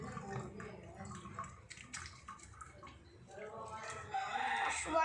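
Tap water runs and splashes as hands are wetted for handwashing, a continuous wet rush growing louder toward the end, with a rooster crowing and a voice speaking in the background.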